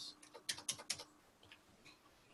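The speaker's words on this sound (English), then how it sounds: "if I go here and I type Pennsylvania" Brief quiet burst of typing on a computer keyboard, a few quick clicks close together followed by a couple of softer taps.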